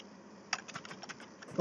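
Quick clicking keystrokes on a computer keyboard, a short run of close, fairly faint taps with slightly uneven rhythm.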